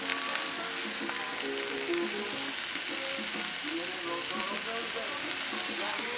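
Steaks and pork frying together in a pan, a dense steady sizzle with crackling pops throughout, close and even in loudness.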